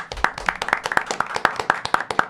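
Steady, even clapping from a small group, sharp claps repeating in a brisk rhythm close by with no voices.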